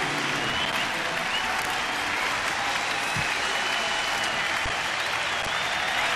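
Large baseball stadium crowd applauding steadily between games of a Dodgers at Nationals doubleheader, a continuous loud wash of clapping and crowd noise throughout.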